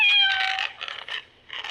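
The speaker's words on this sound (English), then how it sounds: "someone had a cat sound font, so I used that." Meowing cat sounds play as the sound font of an Anakin Skywalker replica lightsaber, a string of short mewing calls, fairly close and clear, with brief gaps between them.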